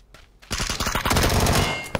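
Rapid automatic gunfire in the video game PUBG, a dense burst of loud shots that starts abruptly after a brief quiet moment and continues to the end.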